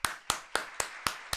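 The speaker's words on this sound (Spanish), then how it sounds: "Por favor, un aplauso a Wasbet." Six slow, evenly spaced claps from one or two people at a Halloween costume gathering, fairly close and dry, with short silences between each.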